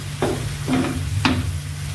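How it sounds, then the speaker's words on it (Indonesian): Bolognese sauce stirred through a vegetable filling in a pan for risoles, a few distinct scraping strokes of the spoon over a steady low sizzle, close and alone with no talking. "Masak kembali sampai matang tercampur dengan baik."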